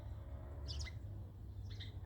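Sparrows in a garden tree give two brief, faint chirps about a second apart over a low outdoor rumble.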